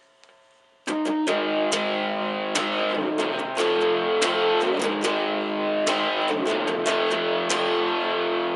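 An electric guitar through a Yamaha THR5 amp with a crunchy, mildly overdriven tone plays a series of struck chords and notes that ring out and sustain, with no talking.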